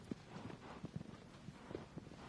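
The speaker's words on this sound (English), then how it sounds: "I'll ride on my horse." Horse hooves clip-clop at an easy walking pace, a string of soft irregular knocks close by over a faint hum, quiet and with no voices.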